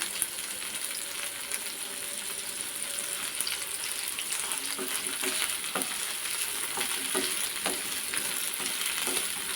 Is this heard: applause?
no